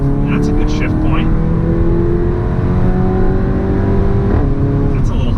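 A car with a tuned DSG gearbox accelerates under a continuous loud engine drone, its pitch rising and then dropping as it shifts gears, while people talk inside the cabin.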